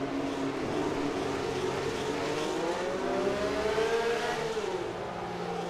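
A Matra V12 race car engine in the racing game rFactor 2 at Monaco drones at high revs with a rising and falling pitch, steady and continuous, heard at a moderate distance.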